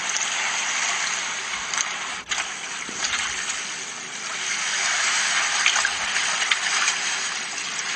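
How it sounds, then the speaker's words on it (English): Continuous rushing water with a washing, surging texture, like waves breaking nearby, steady and fairly loud with no voices. "One of the beaches, so you can see some of the waves."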